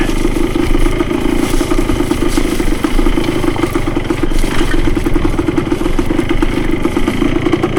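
Yamaha CT3 175 motorcycle engine cruising at low revs down a rooted, rocky woods trail, a steady close chugging drone with rattle and clatter throughout and no talking.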